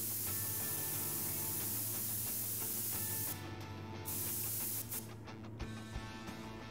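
A cleaning spray bottle is used in the prison video game Prison Simulator, giving a long soft hiss of spraying that runs for several seconds with brief gaps and small clicks near the end, fairly quiet and without speech.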